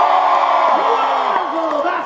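A theater audience at a live show cheers loudly, whooping and yelling together in a dense, continuous roar that holds steady for about two seconds with excited voices rising above it.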